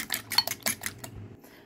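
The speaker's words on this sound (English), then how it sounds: "You need 3 pieces of eggs and beat it." Three eggs whisked in a bowl for a pumpkin flower omelet, heard as a quick, close run of bright clinking strokes that stop abruptly near the end.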